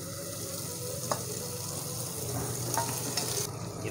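Chicken for a shahi chicken korma fries in a pan with already-browned ingredients, a constant close sizzle with a couple of faint clinks and stirring scrapes, no voices.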